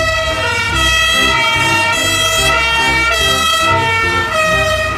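A fire rescue truck siren wails loud and close, a steady tonal cry with rising and falling sweeps over a low engine rumble, continuous throughout with no talking.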